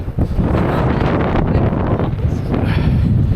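Strong gale from Storm Eowyn, with gusts near 80 mph, roars and buffets against the microphone in heavy continuous rumbling bursts, loud and close throughout, with the wind noise filling the whole stretch.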